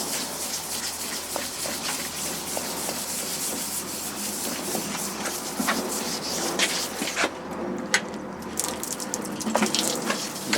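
Wet sanding paint on a Triumph bash plate, with continuous gritty rubbing strokes and a steady wash of running water, close and fairly loud throughout.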